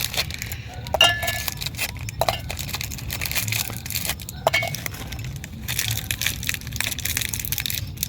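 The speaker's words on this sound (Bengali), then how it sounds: "এবার এই মিক্সি জারের মধ্যে বিস্কুটগুলো খুলে দিয়ে দেব" Ten packets of Happy Happy biscuits are unwrapped and dropped into a mixer jar: irregular crinkling of wrappers with scattered light clinks and knocks against the jar, close by, with no talking.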